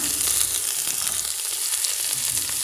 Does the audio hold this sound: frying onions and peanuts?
yes